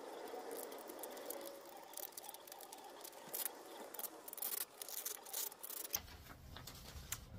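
Scissors snip through embroidery material in quick, irregular cuts, close and fairly quiet, with a soft rustle of the fabric between snips and a brief low handling thump near the end.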